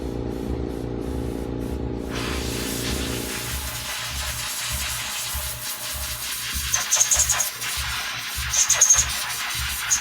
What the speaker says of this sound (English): But I guess I could just use the air compressor.